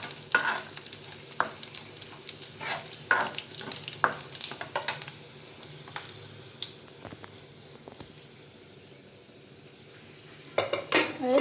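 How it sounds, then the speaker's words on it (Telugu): Dried red chillies fry in a pan with a continuous soft sizzle, broken by repeated scraping and clinking of a utensil stirring against the metal. "ఈ ఎండుమిర్చి త్వరగా వేయించుకోవాలండి."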